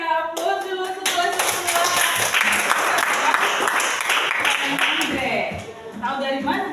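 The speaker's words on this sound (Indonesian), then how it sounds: "aplaus dulu" An audience in a teacher-training class breaks into sustained, loud clapping that fills several seconds, with voices talking over and around the applause at the start and end.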